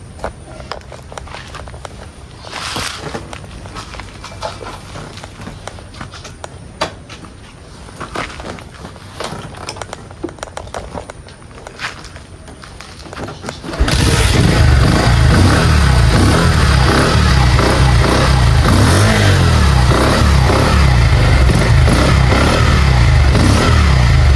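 A motorcycle being kick-started amid clattering footsteps, then its engine catches and runs loud and continuous, revving with a rough, throbbing roar for the second half.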